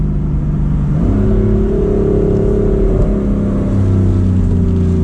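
A BMW M4 Convertible with a 7-speed dual-clutch gearbox pulls hard, its engine note climbing and dropping through quick upshifts, loud and close with a steady cabin drone.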